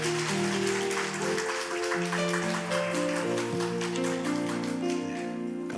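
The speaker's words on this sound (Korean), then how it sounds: "우리 목사님 박수로 모시겠습니다." A church congregation at an evening revival service claps steadily to welcome the pastor, a dense, continuous patter of many hands, with sustained organ or keyboard chords sounding underneath.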